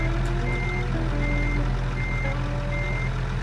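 Steady, loud backup beeps from a reversing truck repeat in an even rhythm over a low, constant diesel engine rumble, with no talking.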